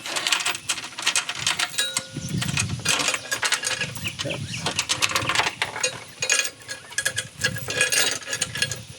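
Metallic clicks, ratcheting and clanks from tightening the mandrel pulley bolt on a Husqvarna riding mower, a busy run of close, irregular tool and part noises with no talk.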